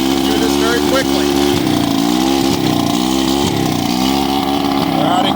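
An old Johnson outboard motor, flooded with fogging oil while being winterized, runs loud and close with a continuous throbbing, rough idle that rises and falls slightly in pitch throughout.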